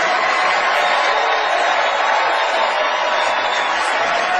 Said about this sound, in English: Everybody, please join me in giving Meryl Streep a totally undeserved round of applause